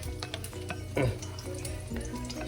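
Chicken fritters sizzle and crackle steadily in a frying pan, close by, with a few clinks and stirring sounds over the constant frying hiss.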